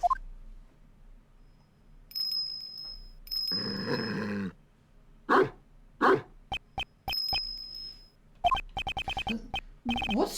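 Video game dog from Ace Attorney Investigations 2 in a prison setting, wearing a bell on its collar: a growl, then a run of sharp, close barks and grunts in separate bursts, with chiming tones between.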